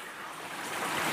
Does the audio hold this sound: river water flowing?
yes